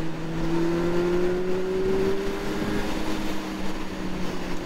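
A fast car passes on a dry autumn country road, heard from a moving Honda Hornet motorcycle; a steady engine drone with a rising tone swells and fades over a few seconds, with no talk.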